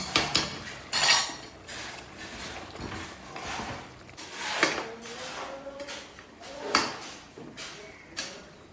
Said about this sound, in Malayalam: ഇനി ഇതിലേക്ക് നേരത്തെ പൊടിച്ച് വെച്ച 1/2 സ്പൂൺ കുരുമുളക് പൊടി ചേർത്ത് നന്നായി ഇളക്കാം